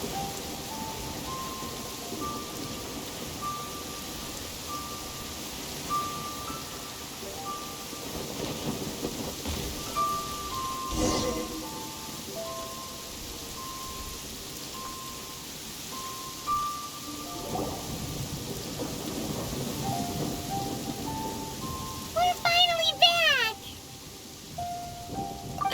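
Rain and thunder in the Genshin Impact video game, steady rainfall with low rumbles and a sharp crack partway through, game music tones layered over it.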